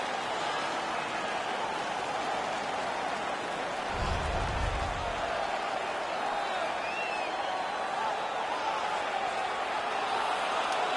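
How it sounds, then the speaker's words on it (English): Arena crowd noise from an NHL 16 hockey video game, a steady roar of cheering after a fight between Boston and Anaheim, continuous and moderately loud with a brief low thump partway through. "The crowd is ecstatic."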